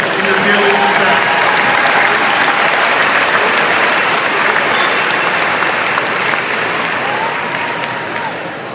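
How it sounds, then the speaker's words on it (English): Dense, sustained applause from a large crowd at a school class ceremony, loud and steady throughout, tapering slightly near the end. "Let's have a round of applause for our families"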